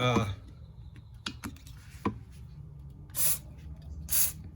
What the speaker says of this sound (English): spray it with some brake clean in there